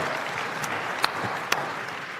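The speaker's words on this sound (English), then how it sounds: "Yeah, clapping is allowed." An audience at a Schneider Electric keynote in Paris applauds, a steady patter of clapping with a few sharper claps standing out.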